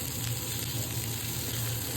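Broccoli, peas and capsicum sizzle steadily in a frying pan for fried rice, a continuous close crackle and hiss with no breaks and no voices.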